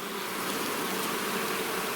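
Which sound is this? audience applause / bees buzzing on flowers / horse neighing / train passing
bees buzzing on flowers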